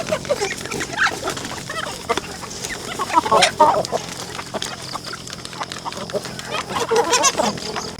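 Free-range Asil chickens cluck and squawk nearby in an irregular chorus, with faint voices in the background of an outdoor yard.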